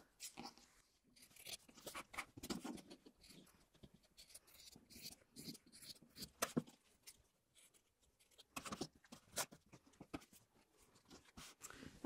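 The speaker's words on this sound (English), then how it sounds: "I'll do the rest with scissors." Scissors cut fabric with repeated crisp snipping and crunching, close and fairly quiet, in irregular bursts with short pauses between cuts.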